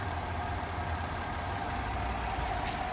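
The 3.0 liter V6 of a 2011 Ford Escape Limited AWD idles smoothly, a low, even engine hum held steady throughout with no talking over it.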